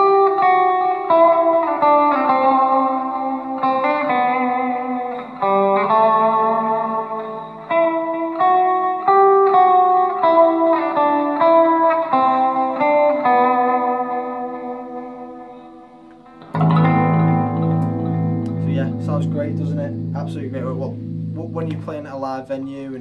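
A clean electric guitar, an LTD M-17 through a Blackstar ID:60 TVP amp with slight gain, volume turned up, reverb and chorus-like effects, picks a steady run of arpeggiated notes. Late on it switches to fuller, ringing strummed chords.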